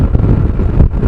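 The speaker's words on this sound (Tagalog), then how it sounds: "marinig mo dyan yung kaluskos ng hangin" Loud, continuous wind buffeting a microphone outdoors by a road, a low rumbling roar that fills the whole moment with no pauses.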